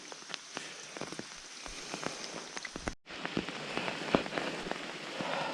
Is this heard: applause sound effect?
no